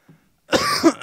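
A single sharp cough bursts out close to the microphone after a moment of near silence.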